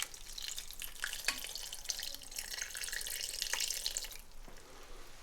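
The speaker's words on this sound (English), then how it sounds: "I'll add about 1 cup of water to it" Water splashes and trickles steadily into a pot for several seconds while making potato and lamb or goat stew, with faint clinks of the pot over the running stream.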